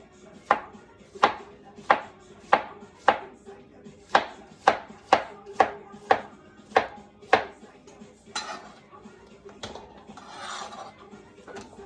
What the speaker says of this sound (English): I'm just going to take the green banana and cut it on the bias